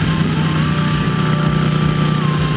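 Harley-Davidson Iron 883 motorcycle cruising on a highway, its engine droning steadily and loudly up close with constant wind roar, no voices.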